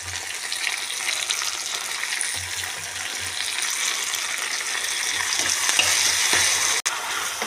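Chopped tomatoes go into a chicken curry frying in a pan, setting off a steady, close sizzle with soft stirring scrapes underneath, with no voices.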